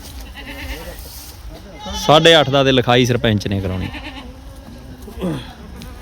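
A goat bleats several times in quick, loud, wavering calls at a goat market in Sedha Singh Wala, with people talking around it and the general noise of the market behind.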